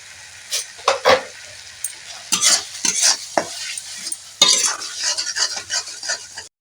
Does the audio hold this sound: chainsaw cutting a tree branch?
no